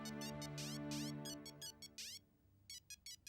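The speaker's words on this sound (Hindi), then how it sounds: "मेरा ही फोन बज रहा है।" A mobile phone ringtone plays in a dubbed comedy film scene: a melodic electronic tune of repeated bright chirping notes, moderately loud, ending in a few short evenly spaced beeps.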